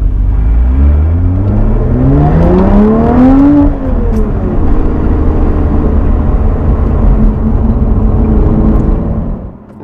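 A Lotus Evora 400 sports car engine revs up hard, its loud rising tone climbing through the gears over about four seconds, then settling into a steady close-up cruising drone without talk.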